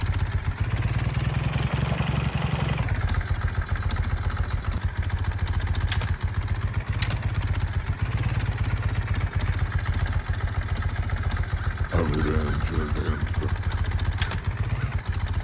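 Motorcycle engine idling in the Farmer's Life game, a loud, close, steady low rumble with a clattery edge that runs unbroken, with a brief rattle near the end and no talk.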